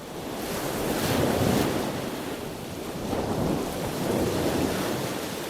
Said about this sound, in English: or soothing sea sounds.